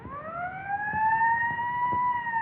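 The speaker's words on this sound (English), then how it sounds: "There's the ambulance now." An ambulance siren wails loud and close, a steady rising-and-holding electronic tone with no voices over it.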